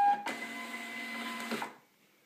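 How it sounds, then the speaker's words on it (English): A Zebra ZP 450 thermal printer prints a shipping label with one smooth, even whir of about a second and a half that stops abruptly, leaving near silence. "I got a label ready to print. You can see how fast this thing works."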